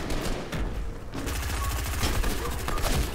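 Rapid bursts of gunfire in the video game Fortnite, played on PC, crackling loudly and continuously over dense game sound, with a dense volley in the second half.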